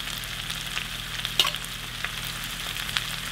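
Jalapenos and onion sautéing in a pan alongside flounder, a steady close sizzle with a couple of brief stirring clicks and no talk.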